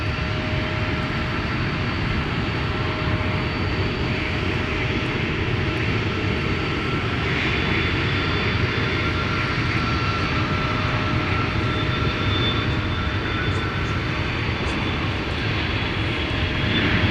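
A charter jet taking off at MSP airport in winter: a steady, loud, broadband engine roar that holds constant throughout, with a faint tonal whine riding on top and no talk.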